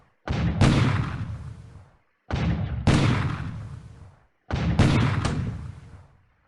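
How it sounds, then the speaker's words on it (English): Three heavy booming gunshots in the video game War in the Pacific: Admiral's Edition, evenly spaced about two seconds apart, each with a sharp crack and a long rumbling decay. "Maya gets off some gunshots."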